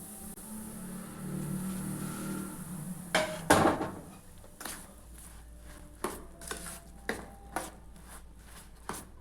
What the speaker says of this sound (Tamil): இப்போ நம்ம கலந்து வச்சுருக்க இந்த ரவை மிக்ஸில் நம்ம கொஞ்சம் கொஞ்சமாக நெய் சேர்த்துக்கலாங்க.